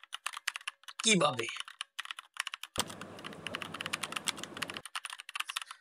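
Computer keyboard typing heard as a run of quiet, irregular clicks, broken by a short spoken word and a stretch of duller background noise.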